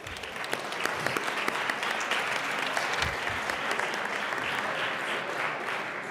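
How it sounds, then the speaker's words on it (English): A large crowd applauds steadily in the Colorado House of Representatives chamber, a dense wash of clapping that holds at an even level throughout. "Let's give her a round of applause."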